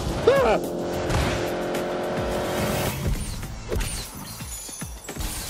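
Race car engine and tire squeal in The Grand Tour Game video game: a sustained engine drone with a sharp squealing whine at the start, then mechanical clatter and thumps as the engine note drops away, fairly loud.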